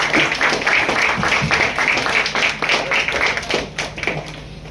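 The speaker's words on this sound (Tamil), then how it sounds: "பலத்த கைத்தட்டல்களை கொடுக்கிறோம்" Loud, dense applause from an audience at a Tamil award ceremony, many hands clapping continuously and close for nearly five seconds with no break.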